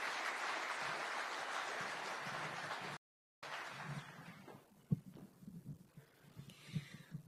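A hall audience at a contact centre launch in Kenya applauds an arriving speaker. The applause is a dense, steady wash for about three seconds, then breaks off, leaving quieter room noise with a few low thumps.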